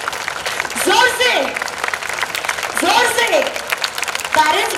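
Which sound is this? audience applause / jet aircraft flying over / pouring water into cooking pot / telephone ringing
audience applause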